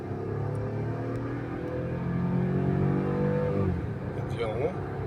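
A Mercedes W211 E320 Avantgarde engine revs up under heavier throttle, a steady droning rise in pitch with rumbling harmonics, loud and close, easing off near the end with some background voices and noise.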